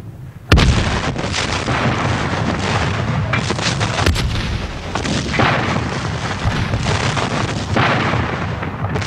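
Heavy cannon artillery fire at Fort Sumter, a sharp blast opening into a sustained, rumbling barrage with repeated booms rolling on loud and dense throughout.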